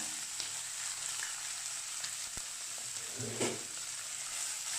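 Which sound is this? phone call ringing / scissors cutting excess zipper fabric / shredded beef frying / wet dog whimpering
shredded beef frying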